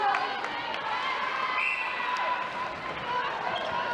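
Indoor stadium crowd at a netball match, with fans and players' bench cheering in a continuous loud wash of voices and shouts echoing through the arena, dotted with ball bounces and squeaks.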